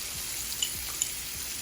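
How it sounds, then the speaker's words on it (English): Minced garlic, about four cloves, hits a hot pan and sizzles in a steady, close, even hiss of frying with a couple of faint pops. "Now I'm putting in the garlic."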